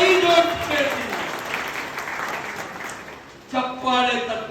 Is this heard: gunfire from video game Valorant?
no